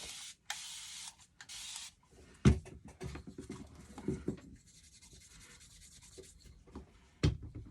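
A knife handle end is burnished by friction, giving steady raspy rubbing strokes in short bursts, then softer scuffs and a couple of sharper knocks.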